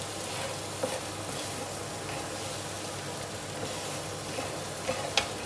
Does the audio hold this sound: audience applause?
no